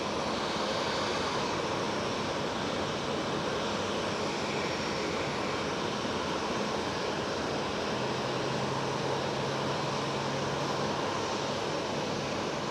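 A KLM Cityhopper Embraer E195-E2 jet at Schiphol airport, heard as a steady, broad roar of engine noise that holds level throughout, fairly loud and distant-sounding with no voices.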